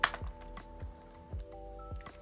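Fingers tap a few quick keystrokes on a computer keyboard, soft and close, in short irregular clicks with brief pauses between them.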